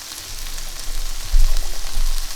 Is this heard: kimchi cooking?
yes